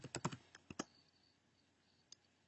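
Short burst of computer-keyboard keystrokes entering a theme name in a blog dashboard, several quick close clicks in a cluster, then a pause and one final isolated tap, alone without talk.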